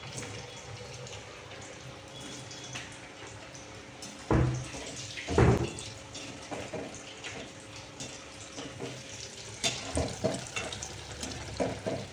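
Sweet puris sizzle in hot oil in a home kitchen, a low steady frying hiss broken by a few louder bubbling bursts and clinks of stirring, with no one talking.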